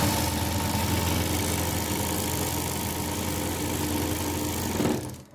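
A sewing machine winds thread onto its bobbin with a steady, close mechanical whir that holds evenly for about five seconds, then stops abruptly.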